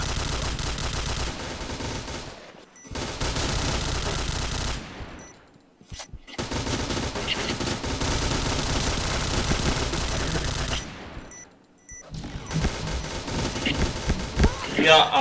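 Sustained automatic gunfire from the PointBlank video game, long dense bursts of rapid shots broken by brief pauses, loud and continuous across the stretch.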